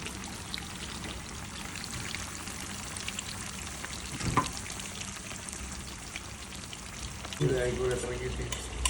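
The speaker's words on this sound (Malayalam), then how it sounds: "ഇനി നമ്മൾ പൊരിക്കൽ ആരംഭിക്കാം" Seer fish pieces fry in oil, sizzling and crackling steadily in a pan, with a brief clatter midway and a louder burst of frying near the end.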